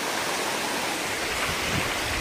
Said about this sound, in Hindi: अब जा रहा है ये सीधा पानी यहाँ से नीचे